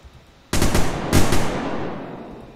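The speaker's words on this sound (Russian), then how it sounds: "Да как он сквозь стены-то стреляет?" Automatic gunfire in the survival game Unturned, two loud bursts in quick succession: a sharp onset followed by a second heavy volley, then a fading tail. No talking.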